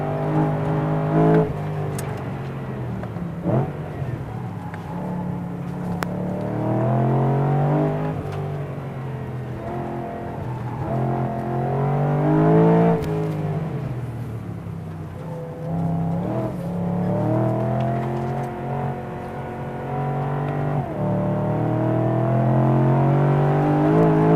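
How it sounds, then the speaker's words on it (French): A BMW M3 GTS engine revs repeatedly, climbing to high-pitched screaming peaks near 8200 rpm between gear changes, loud and close throughout. "Puis ce bruit jusqu'à 8200 tours"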